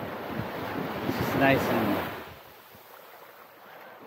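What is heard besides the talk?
wind and ocean waves at Cinnamon Bay beach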